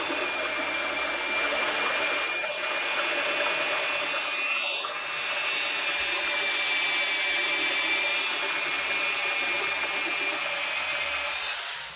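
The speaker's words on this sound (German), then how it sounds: "Und da wird jetzt das Loch reingebohrt für den Auslauf." A drill bores the outlet hole into a wooden fountain, a steady whirring drone holding for several seconds with slight shifts in pitch as the bit cuts through the wood.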